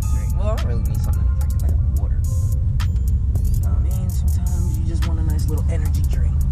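A Honda Civic Si pulling up to a gas station, its engine rumbling low and steady close by, with road and cabin noise and someone talking over it.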